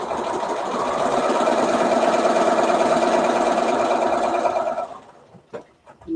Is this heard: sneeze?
no